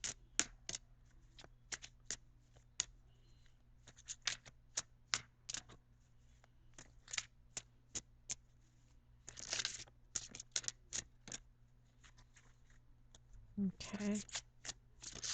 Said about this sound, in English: I'm going to pull your Angel Oracle card.